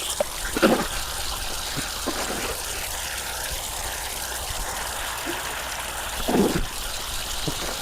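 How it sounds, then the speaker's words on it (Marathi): Cold water splashes as a face is washed outdoors at a large dam in Maharashtra. Two louder splashing bursts stand out over a steady background of running, trickling water, with no talk. "धूळ वगैरे आहे त्याच्यामुळे तोंड धुतोय"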